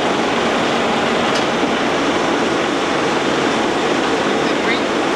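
A 36-inch Bullard vertical turret lathe runs steadily after a speed shift, giving a continuous broadband mechanical whir and rumble at constant level throughout, with no talk.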